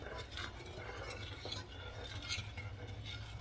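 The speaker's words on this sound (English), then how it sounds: "Add the sugar in. And keep stirring until the sugar melts." A utensil stirs and scrapes steadily in a pan while sugar melts for making shakoy, a twisted sugar doughnut, with a faint sizzle underneath and soft, close clinks.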